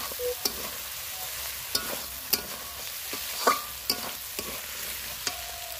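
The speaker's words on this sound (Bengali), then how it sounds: "আলুগুলো দিয়েও আমি ভালো করে কষাবো, ঢাকা দেবো আর মানে নাড়তে থাকবো।" Mutton curry with fried potatoes stirred in a pan, a steady sizzle punctuated by repeated clinks and scrapes of a spoon against the pan at irregular intervals, close up with no talk.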